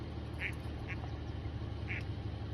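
Ducklings and a mother duck quack during a fire department rescue, a few short quacks over steady low background noise.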